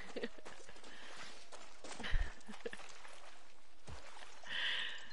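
Horse hooves in the video game Far Cry 6 clip-clop in a loose rhythm across gravelly ground, with a heavier thud midway and a hiss of ambient noise throughout.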